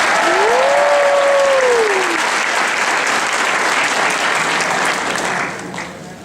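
Loud crowd applause at a C2E2 convention Pokémon panel, dense clapping that holds steady and then tapers off, with a brief whistle near the start.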